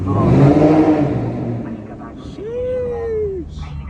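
A Maserati engine revs nearby with a deep rumble that swells and then climbs in a rising whine, while voices talk over it.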